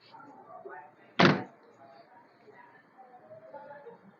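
A single loud thud as the trunk lid of a 2016 Toyota Altis 1.6G is shut, a short sharp slam standing out above quiet background murmur.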